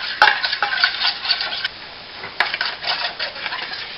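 Roux of flour and fat being stirred in a pan for macaroni and cheese, a soft scraping and light sizzle with a few sharp clinks of utensil against metal, close and without speech.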